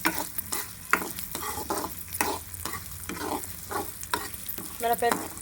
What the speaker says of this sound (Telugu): ఈ మినపప్పుని వేసి ఫ్రై చేసుకోవాలండి.